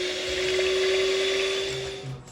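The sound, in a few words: mixer mixing chocolate cake batter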